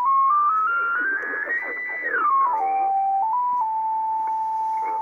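An Icom 730 ham radio tuned to lower sideband gives a steady, clear carrier whistle that slides upward, then drops and settles into a sustained tone, heard alone at moderate loudness.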